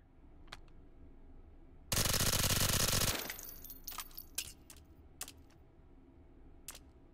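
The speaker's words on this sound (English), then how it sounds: "Grab this, put another mag in." A magazine is pushed into a gun in the VR shooter Hot Dogs, Horseshoes & Hand Grenades: a loud harsh burst of about a second, then a scatter of sharp, close mechanical clicks and clacks.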